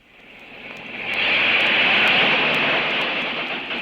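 A crop-planting airplane works over a big California ranch, its engine roar swelling from faint to loud and holding, then easing slightly as it passes nearby.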